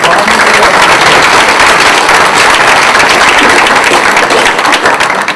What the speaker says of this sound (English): let's have a little applause for them